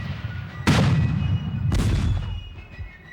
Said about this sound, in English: shook with the thunder of cannon and shell